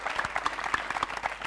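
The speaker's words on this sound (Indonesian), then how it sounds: "tepuk tangan dulu coba ya" A brief burst of applause from a small crowd, quick, dense clapping that stays steady throughout.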